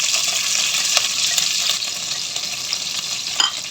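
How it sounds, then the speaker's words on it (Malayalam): Ingredients sizzle and crackle in a hot pan after mustard seeds have popped, with steady frying hiss and occasional scraping stirs, close and continuous without talk. "നന്നായി ഇളക്കി കൊടുക്കാം."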